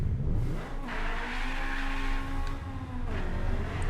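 A car engine over-revs at a drag strip launch in the racing game Apex Point, a loud sustained roar rising and wavering in pitch for a few seconds, close and continuous.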